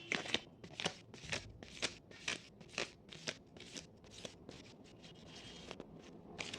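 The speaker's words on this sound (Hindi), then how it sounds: "तो सबसे पहले हम लोग कार्ड शफल करते हैं।" Tarot cards are shuffled by hand in a quick run of about a dozen crisp riffling bursts, close and fairly quiet, each a short papery flutter with brief pauses between.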